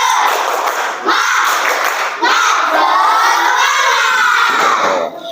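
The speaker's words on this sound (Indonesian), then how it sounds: "mari kita awali dengan tepuk semangat." A school class performs the tepuk semangat clapping chant, with loud, close bursts of children shouting in unison over clapping in a few rhythmic phrases, briefly pausing between them.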